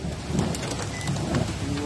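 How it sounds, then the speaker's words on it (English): Hail and heavy rain pelt down in a late-afternoon storm on Andros in the Bahamas, a steady dense patter with a rumbling low roar throughout and no voices. "It's hailing."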